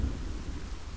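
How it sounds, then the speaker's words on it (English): Low, continuous thunder rumbles under rain in the horror video game Boogeyman, a brief steady roll with no voices. "Was that really from lightning?"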